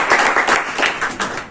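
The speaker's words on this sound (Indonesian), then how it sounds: "sekali lagi tepuk tangan untuk kita semua" Attendees at a provincial youth pioneer award event in East Java clap together in a brief, loud burst of applause with uneven pulses of hand claps.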